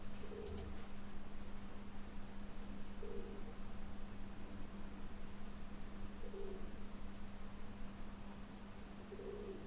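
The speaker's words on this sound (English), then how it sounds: "Now I'm hearing this like pigeon over my head." Faint pigeon cooing from overhead recurs in short soft phrases several seconds apart, heard over a constant low hum and background hiss.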